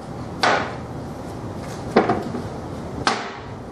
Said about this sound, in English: So what I need to do is I need to put these doors in here.